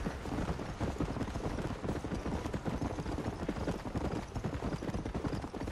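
Horse hooves clip-clopping in the video game Red Dead Redemption, a steady, continuous run of close hoof beats over about six seconds with no talk.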